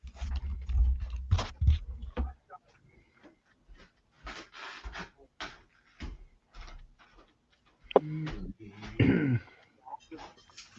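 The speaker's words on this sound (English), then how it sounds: "You clearing your throat for that song you're going to sing us?" A man clears his throat several times in short rough bursts, close to the microphone, mixed with other voices talking and light thumps during a live scale-model building stream.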